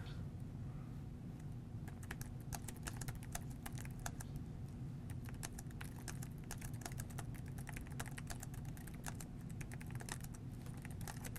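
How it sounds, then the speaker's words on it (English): Steady rapid keystrokes on a computer keyboard while an email is typed in Microsoft Outlook 2016, close and continuous clicking with no talk. "in the midst of typing this email"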